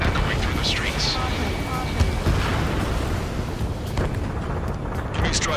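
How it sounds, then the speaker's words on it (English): Dense rumbling roar of jets with booming blasts and gunfire, a continuous loud wash of combat noise from the video game Ace Combat 7. "Gunfire and the roar of jets echoing through the streets."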